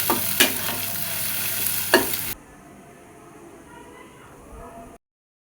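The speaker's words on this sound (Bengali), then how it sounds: "এবার একসাথে ভালো মতো ভেজে নিব" Onion, green chili and egg fry together in a pan with a bright sizzle and two sharp stirring scrapes, then the sound cuts to a much quieter background for the final seconds.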